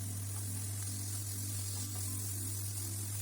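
Onions, tomato paste, washed rice and bulgur sizzle steadily in a pan as they are stirred, giving a close, even hiss over a low electrical hum.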